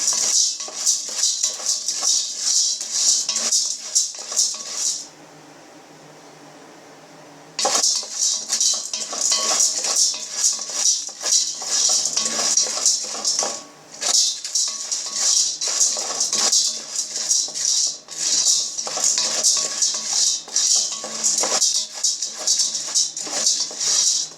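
Popcorn kernels frying in about a tablespoon of oil in a pan give off a loud, dense, continuous crackle and sizzle, broken by one brief quieter pause before the rapid popping resumes.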